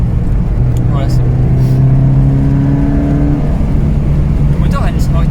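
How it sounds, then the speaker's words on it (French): A 2012 Toyota GT86 with a 2.0-litre four-cylinder boxer engine revs and pulls through the gears, the engine note rising and falling under close, steady interior noise, with a person talking briefly over it. "Le moteur a une sonorité vraiment particulière, ouais."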